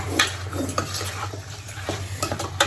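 A spoon scrapes and clinks steadily around a pot of chicken curry, with a soft sizzle underneath and irregular metallic taps close by, no talking.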